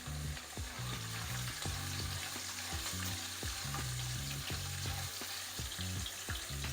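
Coconut fries in a pan for sweet zarda rice, a soft steady sizzle broken by a spoon's repeated scraping strokes, close and faint with no talking.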